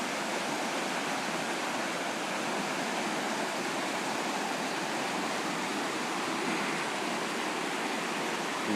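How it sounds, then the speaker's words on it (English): Belt Creek in flood roars with a dense, unbroken wash of water, loud and steady throughout, with no voices over it. "That water is roaring."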